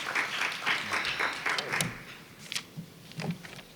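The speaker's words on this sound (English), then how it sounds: "round of applause" A meeting audience applauds a group of panelists at a patient-focused drug development session: scattered, moderately close hand claps in uneven bursts that thin out into a few isolated claps.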